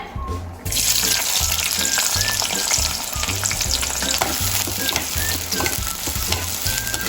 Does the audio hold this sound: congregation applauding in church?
no